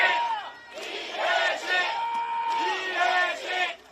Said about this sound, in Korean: 더불어민주당 기호 1번 이해식 후보를 여러분들의 큰 박수와 함께 모시겠습니다